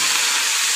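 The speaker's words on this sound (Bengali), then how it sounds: "চলো তাহলে পেঁয়াজ আলুটা ভেজে নিই তাড়াতাড়ি" Onions and potatoes frying in a pan in a home kitchen, a steady loud bright hiss of oil sizzling throughout, with no talking.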